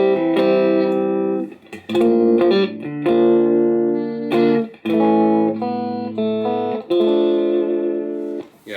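Electric guitar played clean through a Supro 1968RK Keeley Custom 12 amp: a short melodic phrase of ringing chords and single notes, bright and sustained, with brief gaps between strums and no talking.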